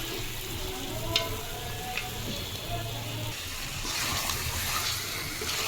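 Turmeric, chili, chopped tomato and fish sautéing in a pan, a steady low sizzle with occasional stirring clinks, close and fairly quiet throughout.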